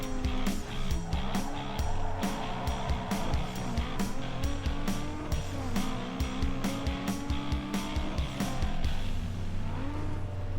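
Race cars in Need for Speed Underground 2 roar continuously with engine revs and repeated tire squeals and skids, a dense loud mix of motor noise and clicking effects throughout.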